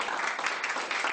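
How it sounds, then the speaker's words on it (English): Audience applauding a longtime board member at a talk on nuclear decommissioning, steady dense clapping throughout a short stretch, moderately loud. "let's applaud for that"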